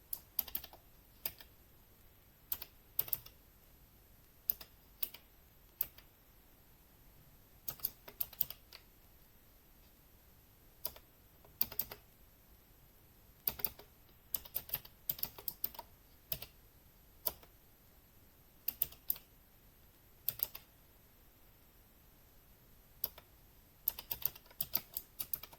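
Steady typing on a computer keyboard while a bash script is written, with irregular bursts of clicking keystrokes separated by short pauses, close and fairly quiet, no talking.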